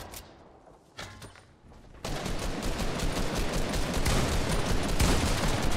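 Rapid bursts of Fortnite gunfire, a dense barrage of shots that swells after a quieter opening and keeps crackling nonstop.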